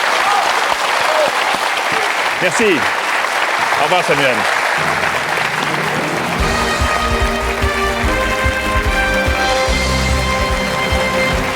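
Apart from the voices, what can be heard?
studio audience applause on game show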